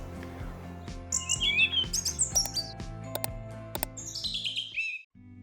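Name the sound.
small forest birds chirping, siskins, tits and chaffinch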